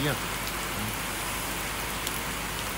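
Heavy rain pours steadily at a workplace, a dense, continuous hiss of drops drumming on surfaces, loud and close throughout with no break.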